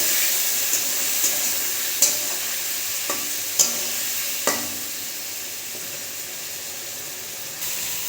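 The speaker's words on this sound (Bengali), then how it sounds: "এবারে পেস্ট করে রাখা মশলা দিয়ে দেবো। দিয়ে ভালো করে কষিয়ে নেব।" Vegetables are stirred with spice paste in a pan, a constant sizzle broken by several sharp spatula scrapes and knocks against the pan, close and fairly loud, with no voices.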